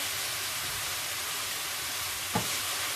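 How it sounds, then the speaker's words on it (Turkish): Steady broadband sizzle of ground meat frying in a pan with onion, garlic and pepper, with a single soft clink of a utensil near the end. "İlk önce kıymalarımı kavuruyorum arkadaşlar."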